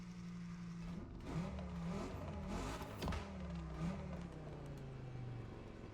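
A car engine revs and accelerates in a racing video game, a steady mid-pitched drone that rises and falls through gear changes, sustained and close with no talk over it.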